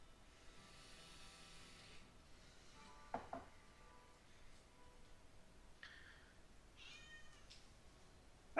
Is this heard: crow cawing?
no